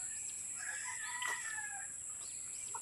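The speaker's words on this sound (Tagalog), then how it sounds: "ayan na yung mga manok ko pala," A rooster crows at a distance, with hens clucking faintly, over a constant high-pitched insect-like whine and outdoor hush.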